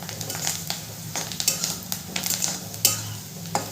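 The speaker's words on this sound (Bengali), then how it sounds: "হলুদ গুঁড়োটা দিয়েও আমি ভালো করে মিশিয়ে নেব।" A spoon stirs turmeric powder through idli masala in a pan, scraping and clinking in a steady, close rhythm over a soft sizzle, with no voices.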